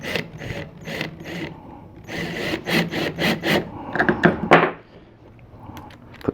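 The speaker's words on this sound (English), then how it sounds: "I'm going to use the drill with the Phillips bit on top." A cordless drill with a Phillips bit drives screws into a wooden box, making a series of short, close whirring and ratcheting bursts that build to a louder spell before ending in quiet.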